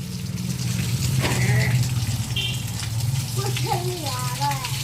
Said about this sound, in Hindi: सबसे पहले पैरों पे जल डाला है।